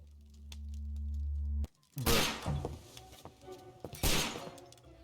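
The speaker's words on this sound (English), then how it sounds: "Ah, gunshot." Gunfire in the video game Sherlock Holmes: Crimes & Punishments: after a low droning tone and a brief silence, sharp loud blasts ring out, followed by echoing rumble and a second burst.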